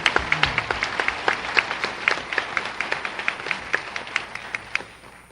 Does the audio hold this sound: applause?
yes